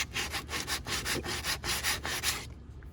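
A rough spot on a plastic kayak keel guard fitted to a Native Slayer Max is rubbed by hand, making rhythmic close scratchy strokes, about a dozen back-and-forth passes, before stopping.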